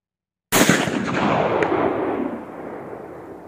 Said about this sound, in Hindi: एक दो फायर उस तरफ करते हैं और फिर सामने करेंगे